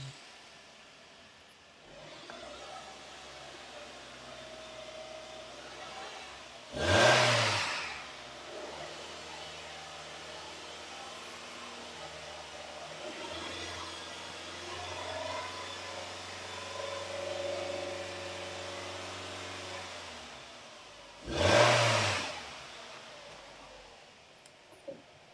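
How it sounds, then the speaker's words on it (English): A Nissan X-Trail QR25 engine idles steadily after a head gasket replacement, rising into a couple of gentle revs in the middle, with two sharp bursts of noise standing out. "I'll just give it a bit of a rev. We'll hold those revs up a bit."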